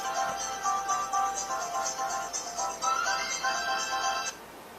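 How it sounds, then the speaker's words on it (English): A phone gives off a melodic ringtone for an incoming text message, a bright repeating chime that plays for about four seconds and then stops, heard alone. "Got a text message."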